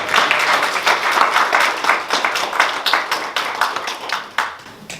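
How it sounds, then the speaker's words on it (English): A modest room applauds David Strong at a hate crime awareness campaign meeting in Lambeth, with loud, fairly close clapping in quick uneven bursts that carries on steadily before tapering slightly. "we really need to give him a round of applause as well"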